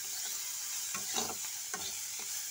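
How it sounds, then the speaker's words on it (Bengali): Shrimp frying with turmeric and salt in a wok, a soft, steady sizzle with occasional spatula scrapes and stirring clatter close by. "আমি এখানে চিংড়ি মাছগুলো আগে আমি প্রথমে ভেজে নিচ্ছি"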